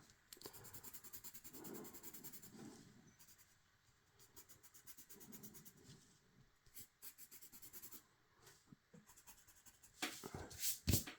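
Pencil scratching across paper in quiet, close strokes that come in short irregular bursts with brief pauses, growing louder and busier toward the end.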